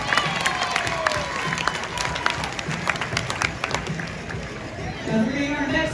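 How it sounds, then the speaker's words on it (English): An audience claps and cheers after a cat performance show at a Six Flags amusement park, steady applause spreading across the crowd for several seconds with chatter and a voice over it. "How about a big final round of applause for our costume?"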